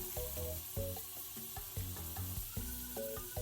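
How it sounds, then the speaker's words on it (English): Butter melting in a hot pan gives a quiet, steady sizzle with soft bubbling crackles and a few light stirring clicks. "we're gonna let this start to melt down"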